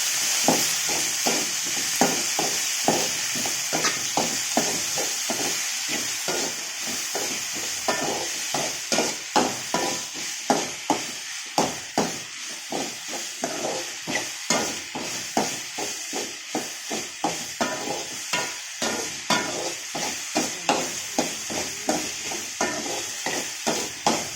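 Ripe tomatoes sautéed in a pan for a potato kurma: a steady sizzle under a fast, regular run of scraping stirs, growing more pronounced and rhythmic toward the end.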